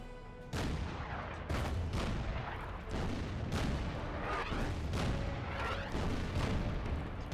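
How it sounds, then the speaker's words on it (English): Artillery fire in the wargame Order of Battle: Sandstorm: a loud, dense run of booming blasts and crackling gunfire that repeats roughly every second over a constant rumbling bed, with no talking. "All the artillery."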